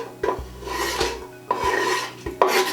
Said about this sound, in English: I'm just going to put the onions and garlic straight in there